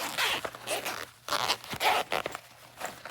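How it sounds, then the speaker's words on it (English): A zipper on a Tomtoc travel gear bag is pulled open in several quick, scratchy runs, close and fairly loud, with short pauses between pulls and no talking. "Take this zipper here,"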